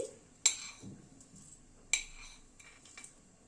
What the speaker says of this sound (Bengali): এবার মশলাটাকে থেতো করে নিচ্ছি